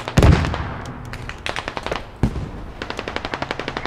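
Gunfire and explosions from the video game Squad: a heavy blast opens, followed by rapid bursts of automatic fire and another boom, then quick repeated shots, all loud and close.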